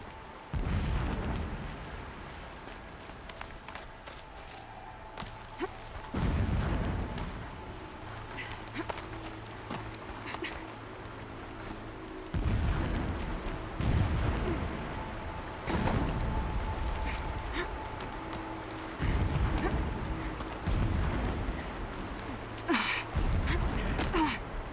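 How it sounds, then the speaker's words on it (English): Deep booming explosions in the video game Horizon Zero Dawn roll in at intervals, muffled and distant, each followed by a lingering rumble. "Explosions in the distance."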